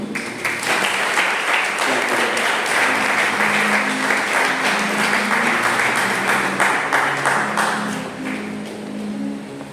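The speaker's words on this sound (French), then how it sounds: "Allons applaudir dans l'église." A congregation applauds steadily in church at a men's service, dense continuous clapping close and loud, with a low sung or spoken tone running underneath, easing off slightly near the end.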